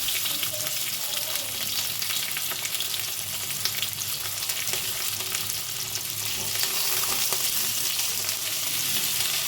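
Spices with ginger paste and tomato fry in a pan for masala paneer, giving a steady, close, loud sizzle with a dense crackle. It keeps on through the whole stretch with no talking.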